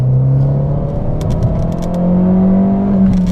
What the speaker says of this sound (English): See, I redlined second gear and I wasn't even going 60.